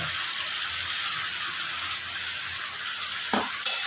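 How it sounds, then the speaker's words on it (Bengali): Rinse water from a mixer jar poured into a pan of frying chicken: a steady hiss of liquid in hot fat that ends in a sudden louder splash and crackle, no talking. "আমি দিয়ে দেব মিক্সির বাটি ধোয়া জল"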